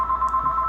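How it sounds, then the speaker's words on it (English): A telephone rings in short, steady electronic pulses, clear and close, with no other sound around it. "That is a phone, I'm sorry."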